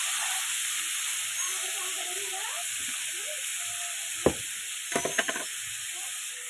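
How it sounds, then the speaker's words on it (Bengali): Mango pieces cook in a pan with salt, turmeric and water, giving a steady soft hiss and simmer, with a few clinks and scrapes of stirring toward the end. "নুন হলুদ দিয়ে একটুখানি জল দিয়ে আমি এটাকে সেদ্ধ হতে দেবো।"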